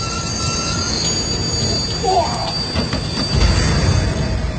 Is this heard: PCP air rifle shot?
no